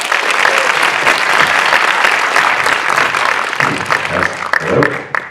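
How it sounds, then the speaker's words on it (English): An audience gives a big round of applause after a dance crew's performance, a loud dense clapping that continues steadily and thins slightly toward the end, with faint voices mixed in. "Big round of applause."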